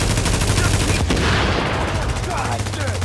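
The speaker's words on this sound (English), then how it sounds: "Keep firing on that guy." Rapid gunfire bursts from a video game shooter, continuous and loud with a sharp blast near the one-second mark, mixed under game noise.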